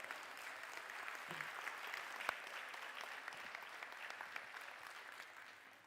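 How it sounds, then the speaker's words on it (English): Sustained audience applause at a college district convocation, a dense, steady wash of many hands clapping at moderate distance, holding evenly throughout before tapering slightly. "give yourselves a round of applause"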